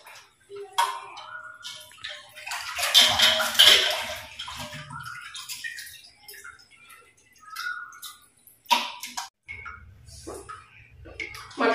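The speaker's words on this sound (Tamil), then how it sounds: "ரெண்டு தடவை நல்லா க்ளீனா வாஷ் பண்ணிக்கோங்க." Raw mutton pieces being washed in water for a mutton kulambu, with close splashing and sloshing in irregular bursts, pausing briefly and picking up again near the end.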